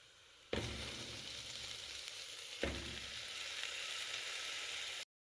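Cow trotters drop into hot oil with a sudden loud sizzle, then fry with a steady hiss alongside onions; a second addition or stir brings another burst before the sizzling cuts off.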